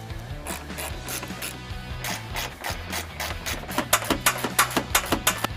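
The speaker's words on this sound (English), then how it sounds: "You can now return your 4 previously removed 10mm fasteners." Ratcheting and rubbing under a 2016-2022 Lexus RX450h as 10mm fasteners are reinstalled during a trailer hitch installation, with a steady scraping texture that builds into quick, regular clicks near the end.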